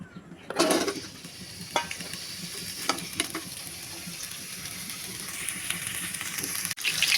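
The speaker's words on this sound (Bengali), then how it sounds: "এখন আমি আলুটা ভেজে নেব" Potatoes frying in a wok on a stovetop: a steady hiss and sizzle after a sharp initial crackle as they go into the oil, with occasional scrapes of stirring.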